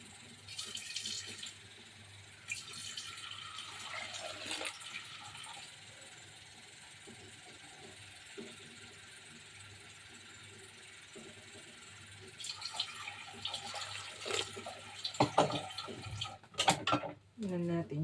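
Water pours into a cooking pot of sautéed mung bean stew with pork cracklings, a steady trickling splash running through much of the stretch, picking up toward the end amid kitchen clatter.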